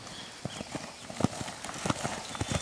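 Hooves of a 1.70 m gelded purebred Lusitano horse clip-clop in an irregular walking rhythm on a hard surface, close and fairly crisp, over light background noise.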